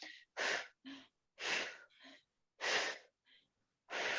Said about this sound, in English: breathing out through pursed lips, doesn't have to be long and steady